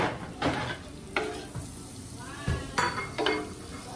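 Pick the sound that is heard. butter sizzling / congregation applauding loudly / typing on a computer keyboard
butter sizzling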